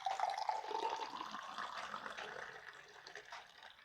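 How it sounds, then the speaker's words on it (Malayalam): Juice poured from a container into a glass, giving a steady liquid stream with a faint rising pitch as the glass fills, close and fairly quiet, continuing for a few seconds. "അപ്പം നമുക്കിനി ഒരു ഗ്ലാസ്സിലേട്ട് ഒഴിക്കാം"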